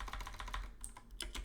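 Quick bursts of close keystrokes clatter on a computer keyboard while a command is entered at a terminal, soft but distinct with a short pause between runs.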